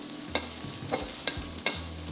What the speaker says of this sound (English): Fry the garlic for about 30 seconds, then add in the chili.